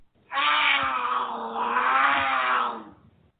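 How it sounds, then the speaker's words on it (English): A cougar gives one drawn-out, harsh yowling growl lasting a few seconds. It is close and loud and stands alone with no other sounds. "Do you have cougars on your porch swing?"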